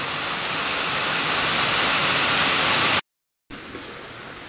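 Rain falls steadily as a dense, even hiss, briefly cut out for a moment, then resumes at the same level.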